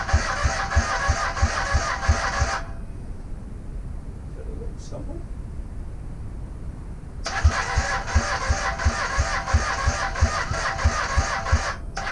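An old Honda motorbike that has not run in years is cranked in two long, rapid, chugging bursts separated by a quiet pause of several seconds, heard up close and loud.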